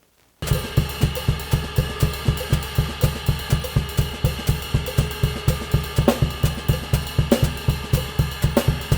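A steady drum quintuplet groove with regularly spaced hits repeating throughout, punchy low thumps and bright cymbal accents, played alone without any talking.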